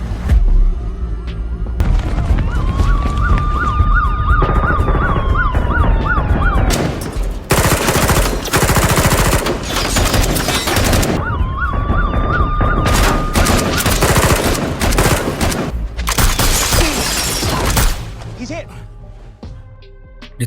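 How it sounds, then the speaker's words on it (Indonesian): A gunfire shootout between robbers and police in the film The Chase, dense bursts of rapid shots mixed with wailing sirens, loud and sustained with voices over parts of it. "Dan terjadilah aksi baku tembak di antara mereka."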